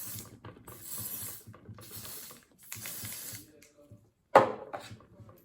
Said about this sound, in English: So I'm gonna go ahead and spray my face.